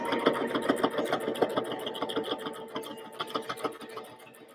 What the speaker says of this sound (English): have to like re-spool another bobbin while I'm sewing